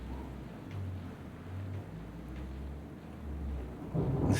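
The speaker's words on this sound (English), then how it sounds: "That was thunder. That was real thunder." Real thunder from a storm rumbles low and faint in the distance, swelling gently in a few soft waves before a louder, closer crack breaks at the end.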